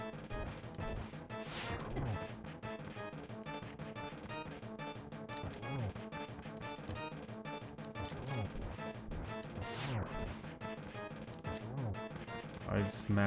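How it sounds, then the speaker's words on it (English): Boss's mask being smashed in Zelda: A Link to the Past, with crashing game hits and effects repeating over busy, continuous game music and sound, and no speech. "I've smashed the mask."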